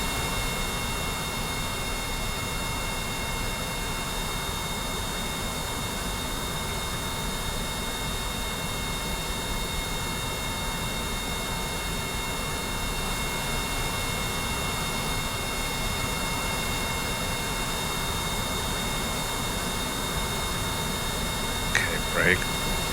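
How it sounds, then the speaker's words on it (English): Steady, unbroken spacecraft engine roar from the Kerbal Space Program video game, a flat whooshing drone with a faint high whine that holds at the same level for the whole stretch, with no talking over it. "the sound of these engines is a bit annoying"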